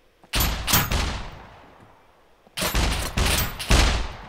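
Gunfire in the survival shooter SCUM: two loud bursts of rapid shots, the first just after the opening and the second after a quiet gap, each decaying into a ringing tail, with no talking.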